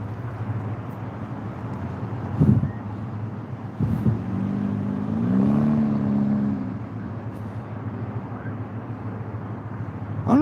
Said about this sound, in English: I don't know if that was a BMW.